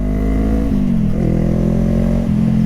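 A motorcycle pulls away in first gear, its engine droning loud and close with a steady pitch that dips and shifts briefly partway through. No one speaks.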